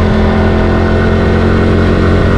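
A Suzuki Raider J 115 motorcycle engine drones loud and close under steady throttle while climbing a gentle zigzag mountain road, a continuous buzzing hum with wind noise and no pauses.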